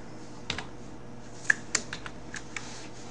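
A few quiet, scattered keystrokes on a computer keyboard while code is typed, sharp isolated clicks separated by short pauses in a hushed room.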